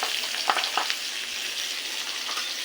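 Black cumin seeds, chopped garlic and chopped onion fry in hot oil for a greens dish, filling the space with a dense, continuous sizzle and scattered small crackles close by.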